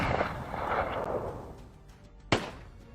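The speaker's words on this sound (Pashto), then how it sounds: "بیا بل ډز کیږي." A single sharp gunshot crack rings out, fired from a mosque facing the Arg palace in Kabul at President Daoud Khan. It sounds fairly distant and cuts briefly through a low, rumbling background.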